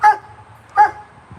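Two short, loud dog barks about a second apart, close by, with quiet background in between.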